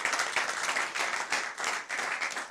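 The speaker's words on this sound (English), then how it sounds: "Let's clap for him." A seated audience at a talk show on mindset education claps together, a steady, dense patter of many hands with a few slight dips in intensity, fairly close and without speech over it.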